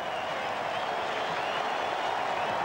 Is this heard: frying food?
no